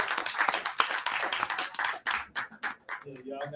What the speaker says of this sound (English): Let me give him a round of applause, man.